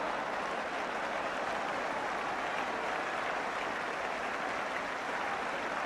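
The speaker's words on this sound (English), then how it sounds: "applause all around the ground for that" Football crowd applauding all around the ground at a 1977 match after a near miss, a dense, steady wash of clapping that holds at an even level throughout with no voices standing out.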